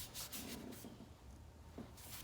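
Knife handle being sanded by hand, a few close rasping back-and-forth strokes with short pauses between them, fairly quiet, with no voices.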